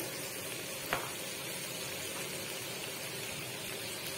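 Spice paste sizzles in a pan after a splash of water, a continuous close hiss and crackle with one brief knock near the start and no voices.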